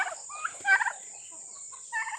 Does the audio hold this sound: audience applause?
no